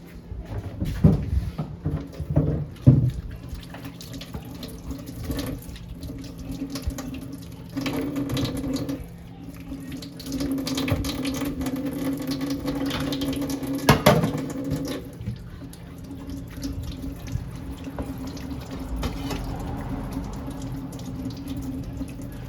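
Water runs from a kitchen tap while food is washed, a steady splashing hiss with clatters and handling noises throughout, no talk.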